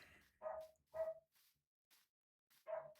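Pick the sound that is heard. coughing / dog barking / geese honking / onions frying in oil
dog barking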